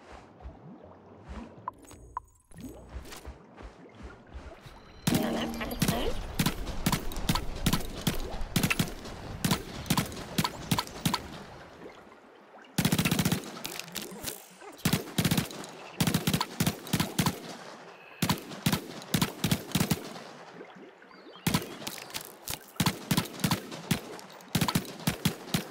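Gunfire at a shooting range in the game Atomic Heart: sustained rapid automatic bursts and sharp single shots, loud and close, in several long volleys separated by brief quiet gaps, with no talk.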